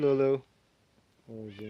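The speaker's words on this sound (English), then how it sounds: "Sorry, my cat is bugging right now." A pet cat meows twice close by, one sharp call followed after a pause by a longer, rising one, while a person speaks briefly in between.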